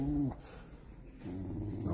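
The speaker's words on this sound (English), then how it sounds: "Don't growl at me." A dog growls low in two rumbling bursts, at the start and again through the latter half, close by on a street in Lukla, Nepal, with a short quiet gap between them.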